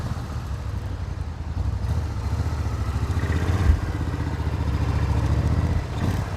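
A 1994 Suzuki Intruder 1400 cruiser motorcycle rumbles steadily while being ridden, a low throbbing engine note holding close and even throughout with slight rises in loudness.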